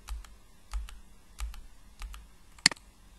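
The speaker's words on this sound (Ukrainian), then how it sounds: "натискаючи букву S на клавіатурі" Computer keyboard key presses while drawing a wall in Archicad: several soft, evenly spaced taps, then one sharp, louder click near the end, close by and without talk.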